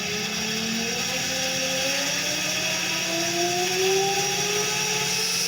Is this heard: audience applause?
no